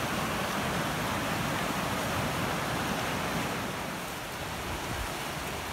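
A swollen creek on a farm rushes past after high water, a broad, steady, hissing roar of flowing water without pause or voices.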